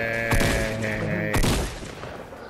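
Weapon fire in the video game Fortnite: two loud, sharp bursts about a second apart, rising over a steady droning game-music bed, with no talking.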